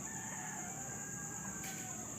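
Young free-range village chickens at a poultry farm cluck and a rooster crows faintly in the background, a soft steady barnyard din with a brief brighter burst near the end.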